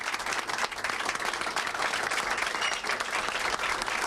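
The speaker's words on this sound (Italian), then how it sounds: "gli applausi che stanno continuando qui." Dense, continuous applause from a large crowd fills a hall for the Lega party's newly elected regional secretary after a clear victory, steady and sustained at a moderate distance with no pause.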